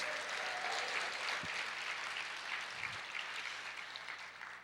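A church congregation applauds during a Portuguese-language sermon, broad, dense clapping that stays steady and gradually fades, with a couple of low thumps in the middle.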